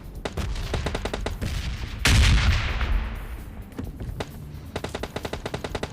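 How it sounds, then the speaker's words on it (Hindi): Rapid automatic gunfire from PUBG Mobile Lite gameplay, with bursts of repeated shots before and after a loud blast around the two-second mark, fairly close and loud throughout. "और अब जरा गन शॉट के पास सुनो"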